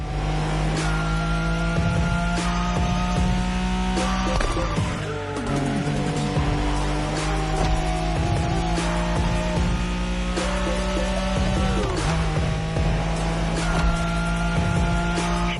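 A Nissan Skyline races at full throttle in The Crew Motorfest, its engine roaring steadily with shifting pitch while the tires squeal and skid through corners for the whole stretch.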